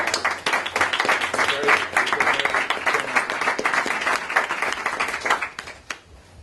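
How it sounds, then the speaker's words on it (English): An audience applauds steadily for about six seconds at a meat drive held with the Turkish Cultural Center and the Manhattan Borough President's office, the dense clapping easing off near the end. "Let's give you a big round of applause."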